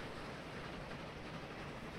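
A train runs along the rails in the rail-building game Transport Fever 2, a steady, even rumble with no break and no voices over it.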